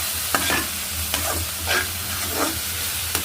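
Green chili and coriander paste cooks in a pan for spicy vegetable rice, a steady hissing sizzle with several short scraping strokes of stirring and no talk.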